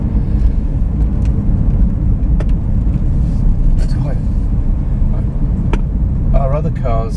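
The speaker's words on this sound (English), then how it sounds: "let's do a stint in pure electric" Toyota Prius cruising on pure electric power, heard from inside the cabin: a steady, low road and tyre rumble with no engine note, continuous for the whole stretch.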